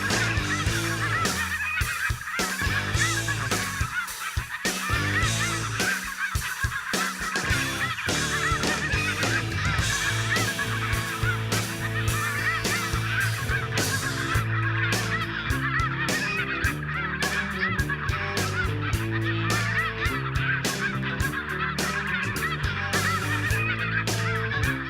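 A large flock of snow geese honking nonstop over a hunting field in northeastern Colorado, dense overlapping calls near and far forming a loud, continuous clamor for the whole stretch.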